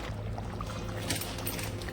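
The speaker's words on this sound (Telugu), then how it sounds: "కొంచెం వాటర్ వేసానండి" Water poured into a village-style chicken gravy curry, a soft brief trickling splash over a low background hum.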